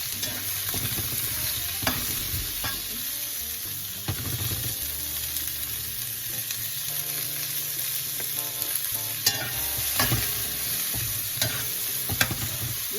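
Food sizzling steadily in a hot pan with lemon and a little salt, a continuous frying hiss broken by occasional clacks of stirring and utensil knocks, close and fairly loud throughout with no talking.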